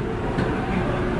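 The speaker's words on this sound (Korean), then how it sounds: "열차 출발합니다." Steady low rumble of a Seoul subway Line 5 train departing along the rails, a continuous dense drone with faint clatter throughout.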